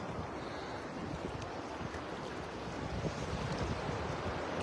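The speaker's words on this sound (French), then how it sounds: "Oh, des fois, il arrive des vagues, c'est un tsunami." Sea waves washing in steadily at a holiday beach, a broad continuous rush of surf mixed with wind buffeting the microphone, with no talk.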